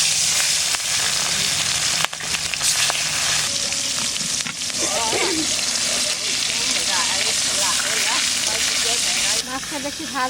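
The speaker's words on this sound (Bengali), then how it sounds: "মাছটা বেশি ভাজবো না, হালকা ভেজে নেব।" Rui fish rubbed with salt and turmeric fries in hot oil in a pan, giving a loud, dense, continuous sizzle with some crackling throughout.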